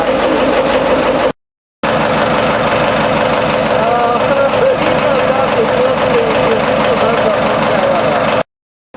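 TDME-490 marine diesel on a motorboat running with its engine compartment open, a loud, steady close-up idle with rhythmic knocking, cut by a brief gap of silence.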